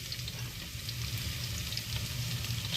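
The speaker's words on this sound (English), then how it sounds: "Now, you don't want to burn your garlic, so you just put it in. You can hear it sizzling." Garlic sizzles in hot olive oil in a pan, a steady close frying hiss with faint crackles running unbroken throughout, no voices over it.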